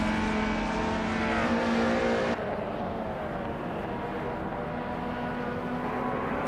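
A 1997 Citroën ZX Group N rally car in a racing video game holds a steady, loud engine drone with a sustained harmonic whine. Partway through, the tone drops slightly as if the car shifts gear, and the engine keeps droning alone with no talk.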